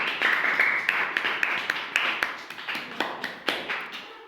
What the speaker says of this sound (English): Clap for Vernica.